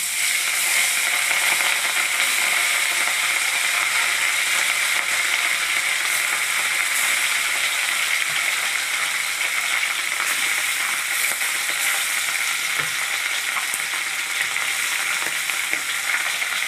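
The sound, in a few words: frying fish pieces in hot oil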